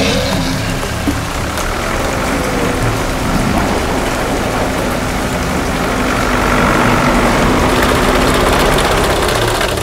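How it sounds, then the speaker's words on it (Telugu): Heavy rain pours down outdoors in a dense, constant hiss, with a low engine-like rumble underneath and no voices, holding steady for about ten seconds. "సార్ ఇక్కడ ఒకటే వర్షం పడుతోంది సార్"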